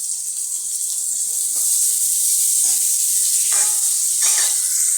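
Bay leaf, chopped ginger and chili sizzle in hot ghee, a steady bright frying hiss with a few soft clinks and stirring bumps, close and continuous without talk.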